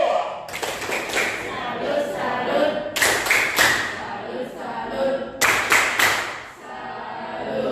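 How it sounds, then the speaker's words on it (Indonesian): Schoolchildren in a classroom clap their hands together in several bursts of sharp, rapid claps, with a rumble of voices and murmuring continuing underneath between the bursts. "tepuk tangan dulu"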